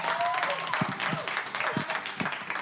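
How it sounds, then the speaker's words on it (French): Studio audience applauding on a French game show, a steady wash of clapping with a few louder individual claps, fairly close, and a voice talking faintly underneath. "ils sont là, on les applaudit"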